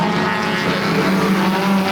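Mini stock race cars at Peterborough Speedway roar past in a close battle, a loud sustained engine drone with shifting pitch and no talk.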